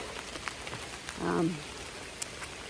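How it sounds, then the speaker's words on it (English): Steady rain falls on the Appalachian Trail during a hike, a soft continuous patter with scattered nearby drops and one brief louder rustle mid-way. "I'm hiking and it's raining."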